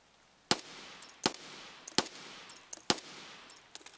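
Full-auto gunfire in the shooter game Escape from Tarkov SPT: four sharp, well-spaced cracks about 0.7 seconds apart, each with a ringing tail, plus fainter distant shots, fairly quiet overall with no speech.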